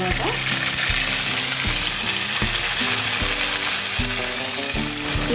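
Ginger paste sizzles steadily in hot white oil with cumin, five-spice and dried red chillies, a loud continuous frying hiss with faint regular low knocks underneath and no talk.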